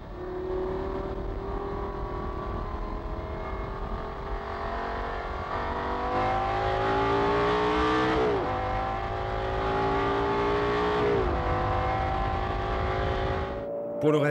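A Lamborghini Gallardo with a Balboni engine accelerates hard, loud and close, its rising engine note climbing through several gear changes without pause.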